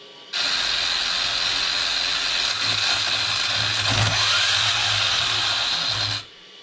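A mechanism grinds with gear cogging from tall 1-to-1 gearing, a steady high mechanical whir with a low rhythmic chatter beneath, starting abruptly, running evenly for about six seconds, then cutting off.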